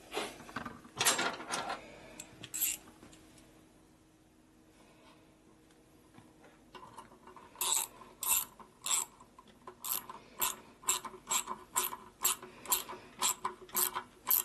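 A ratchet tightening down a Harley-Davidson shovelhead big bore stroker motor: short bursts of rapid clicking, then a quiet pause, followed by a long run of evenly spaced sharp ratchet strokes, close and clear with no talk.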